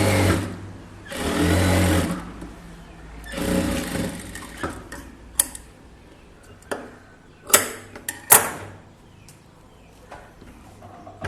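A sewing machine stitching a band for a 44-inch close-neck blouse runs in short bursts, pausing between runs, with sharp clicks and handling noises close by.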